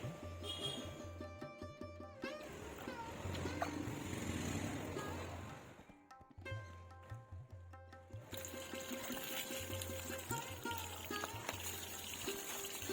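Water pours steadily into a lotus pot and spills over its rim in a garden, a soft continuous trickling and splashing with a brief pause midway, alongside a low engine-like hum.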